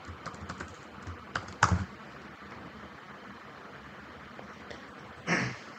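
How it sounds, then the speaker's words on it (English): Computer keyboard typing, a quiet steady patter of key presses with a few louder clacks, close and alone with no talk. "Oops, typing in the wrong spot."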